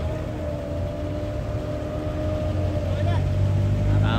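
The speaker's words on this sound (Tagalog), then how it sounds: "yung makina ng bangka na yan" A motorboat engine on the Marikina River drones steadily at close range, a low continuous rumble that builds slightly toward the end, with faint voices underneath.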